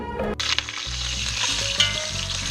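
Pork osso buco browns in a hot pan, a loud continuous sizzle and spatter with a few clattering knocks near the start, close by and without talking.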